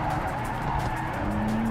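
Tires skid and slide on a stock 2020 Toyota Supra in the Project Cars 3 racing game, a steady engine drone under a continuous smeared squeal with a rising whine near the end, loud and close, no talk.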